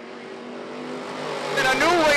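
Dirt Car Sportsman race cars roaring into turn one on a dirt track, engine drone building louder as they close in, with a rising whine of revving toward the end under a commentator's voice.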